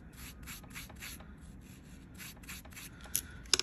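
A carbide nail drill bit being sharpened by hand, rapid rhythmic rasping strokes in short bursts, close and quiet, ending with a couple of small clicks.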